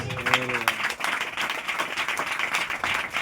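A church congregation breaks into applause during a sermon, a dense wash of clapping that follows a brief spoken phrase and carries steadily to the end.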